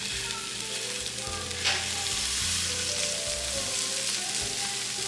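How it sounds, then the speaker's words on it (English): Pan sausage sizzles steadily in a pan during breakfast pizza prep, a dense close frying hiss with occasional louder pops and scrapes, with no voices. "I'm gonna take my pan sausage and put it over here on this side."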